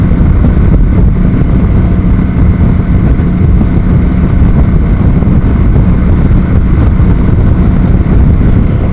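Heavy wind buffeting roars against a helmet while riding a Kawasaki Vulcan 900 motorcycle, a loud, continuous low rumble with engine and road noise beneath it.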